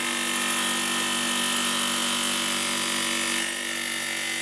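A Husqvarna TS 230 F electric tile saw cuts through tile with a loud, steady, close-up whine that holds evenly for several seconds and eases slightly near the end.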